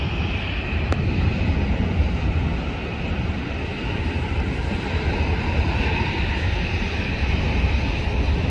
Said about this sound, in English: KLM Airlines, Royal Dutch Airlines from Amsterdam Schiphol Airport.